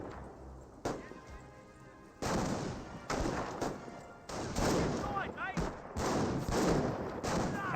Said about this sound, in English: I hear a landmine. Yep, landmine right there.